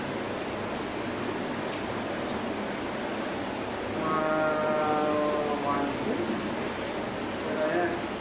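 Floodwater from Super Typhoon Carina pours into a basement as a steady, broad rushing roar, constant throughout and swelling slightly in the middle.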